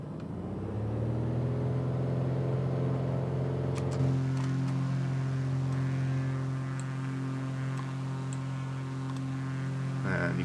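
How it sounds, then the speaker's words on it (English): A Piper PA-28 Arrow engine with a three-bladed propeller in a flight simulator rises from a low start into a steady, loud droning hum with a sharp tonal shift, then holds alone. "closer to the noise that a three-bladed prop makes"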